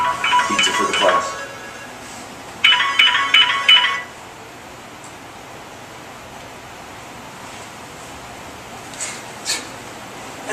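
Mobile phone ringtone going off in a classroom, two bursts of bright chiming melody, the second after a short pause, fairly close and loud, then quiet room tone with faint clinks.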